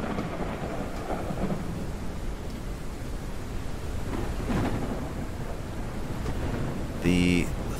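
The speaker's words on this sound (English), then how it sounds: "The thunder in this game is amazing." Thunder rolls over a rumbling storm with rain in the video game Forever Skies, a deep broadband roar that swells and fades, with a brief tonal in-game chime near the end.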